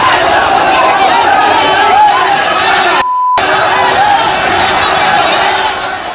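A rioting crowd clashing with police near broken barricades, heard as a loud, continuous roar of massed shouting and chatter with a brief cut partway through.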